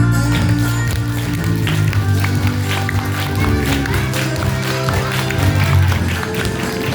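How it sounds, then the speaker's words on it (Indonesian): A crowd at a Maulid Nabi religious gathering claps with both hands raised overhead, a steady loud patter over sustained music and voices throughout. "tangannya dua-duanya diangkat ke atas, tepukkan ke atas"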